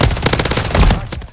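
Rapid automatic gunfire from a weapon in Call of Duty: Modern Warfare 3, a loud burst of closely spaced shots lasting just over a second, fading slightly at the end.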